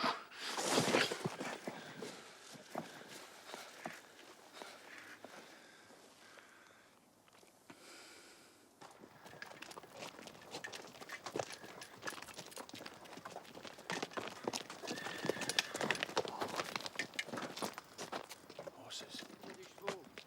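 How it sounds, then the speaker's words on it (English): Hooves of approaching horses clop steadily in a nineteenth-century military drama, a dense rhythmic patter that grows louder after a quieter stretch, with people talking over it. "Horses."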